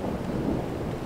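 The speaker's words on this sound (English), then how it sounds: "Thunder yet again." Low, continuous rumble of thunder rolling through a storm over the Albanian coast, steady and fairly loud throughout with no voices.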